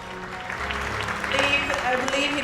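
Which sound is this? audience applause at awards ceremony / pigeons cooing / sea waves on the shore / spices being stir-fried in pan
audience applause at awards ceremony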